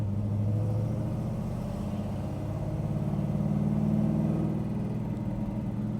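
A 525 HP big block V8 in a 1966 Chevelle pulls under load in third gear, a steady deep rumbling drone that rises slightly in pitch, loud and continuous with no talk.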